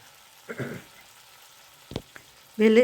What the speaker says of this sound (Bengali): চিংড়ি মাছটাকে ভেজে নিচ্ছি ভালো করে।